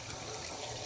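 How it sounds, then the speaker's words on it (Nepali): Water is poured into a pan of Nepali-style egg curry while cooking, a brief, soft, steady trickling splash, quiet and without voices. "टक्क छ पानी हाल्दैछु"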